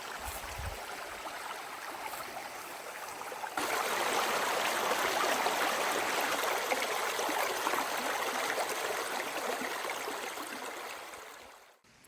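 A creek along the Appalachian Trail in North Carolina flows steadily, a broad, continuous rushing and babbling that swells louder partway through and fades near the end, with no voices.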